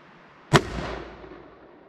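A can launcher fires a soda can with one sharp, loud boom that rings and rumbles away over the next second in open air.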